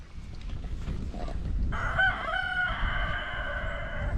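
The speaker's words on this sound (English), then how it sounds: "I'll just keep an eye on that blooming cockerel." A cockerel crows once, moderately close, in a farmyard setting, its drawn-out call rising over a low background rumble with no talk.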